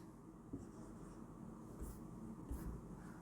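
Chalk or marker strokes sound faintly on a classroom board during a physics lesson, with a few short scratchy marks spaced out against a quiet room.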